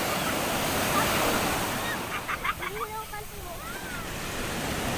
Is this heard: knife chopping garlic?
no